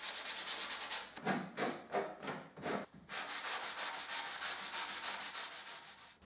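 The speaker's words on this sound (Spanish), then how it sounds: "Me queda lijar todas las superficies que corté." Sandpaper rubs back and forth over cut wooden fence surfaces, a hissing scrape in quick steady strokes, briefly pausing then continuing in a fast even rhythm.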